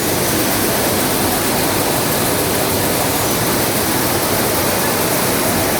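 An electric village mill grinding sand runs in a loud, constant, dense roar of machinery with no breaks, heard up close.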